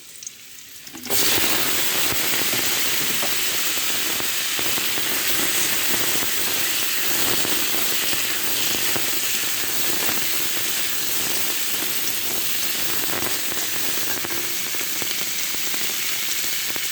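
Potatoes hit hot oil in a wok with finely chopped small onions, bursting into a loud sizzle after a brief quiet moment. The bubbling hiss then continues steadily and close throughout.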